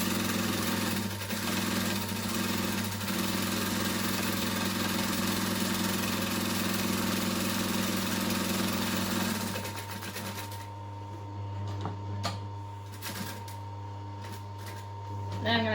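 A sewing machine stitching the end of a duffel bag, a loud continuous mechanical whir and buzzing hum that runs for several seconds, then quieter intermittent stitching with light clicks.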